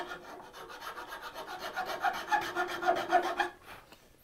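Finer file worked across a wooden organic shape from a slightly different angle, a series of quick, close rhythmic rasping strokes, faint at first and building, with no talking.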